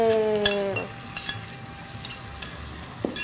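Chopped shimeji mushrooms stir-fried in a pan, with a steady low sizzle, a few clinks of a utensil against the pan, and a brief tonal chime at the start.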